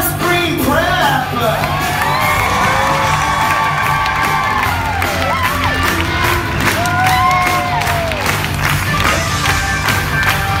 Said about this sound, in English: Please give a big round of applause to the parents and teachers of Horace Green Prep.